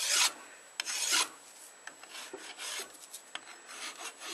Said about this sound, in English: By making the file go round, then you'll put that shape onto the metal.